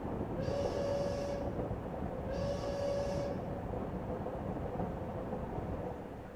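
A train in the video game Heart of the Woods gives a steady deep rumble with two long whistle-like tones near the start, then keeps rolling evenly and fades slightly at the end, with no talking.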